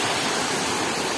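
Water from a sertão waterfall, running lower than usual after days without heavy rain, pours in a steady dense hiss, close and unbroken.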